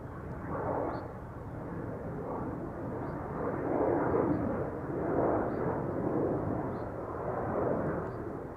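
A LOT Polish Airlines Embraer 195 airliner taking off from Amsterdam Schiphol, a continuous broad engine roar that swells and eases in waves, moderately loud and heard from some distance with no talk.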